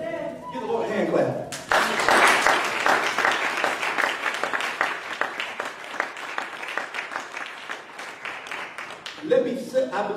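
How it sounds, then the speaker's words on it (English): A church congregation at a sermon by a pastor claps hands together in a lively, rhythmic burst lasting several seconds, with a voice speaking just before and right after the clapping. "Give the Lord a hand clap."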